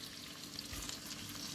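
Partridges in butter sizzle in a pan, a steady, close frying hiss with a soft crackle running through it.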